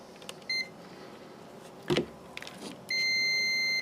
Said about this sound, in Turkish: Multimetremizi buzzer konumuna aldık.